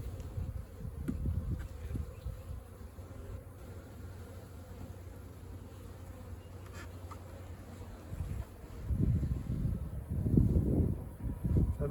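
Honeybees buzzing around brood frames in a hive during almond pollination, a low soft hum with swelling bursts as bees fly close, faint rustling behind.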